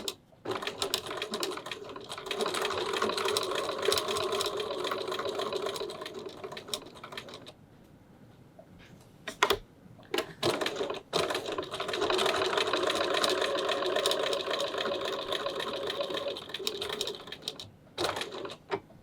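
A sewing machine runs in two long bursts while stitching a fabric pouch at a 3.4 stitch length, a steady mechanical whir with a short pause between, close and fairly loud.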